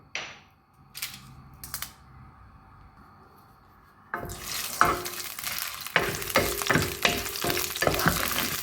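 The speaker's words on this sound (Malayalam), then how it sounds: "ഇപ്പോൾ നമ്മുടെ ഓയിൽ ചൂടായിട്ടുണ്ട് അതിലേക്ക് നമ്മൾ ആദ്യമായിട്ട് ആഡ് ചെയ്യുന്നത് നമ്മുടെ ഉണക്കമുളകാണ്" Dried red chilies drop into hot oil and fry with a sharp, dense sizzle after a quieter start of a few clicks and taps, loud and close, with stirring scrapes over the frying.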